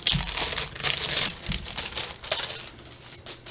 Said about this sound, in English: For those of y'all that don't like all the unwrapping noise, you can mute this for about 5 seconds while they pull it out.